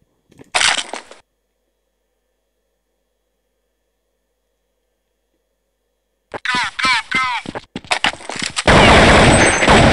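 Gunfire in Counter-Strike 1.6 aimed at a solid wall on a custom map: one short burst near the start, silence, then rapid repeated shots ending in a dense loud volley.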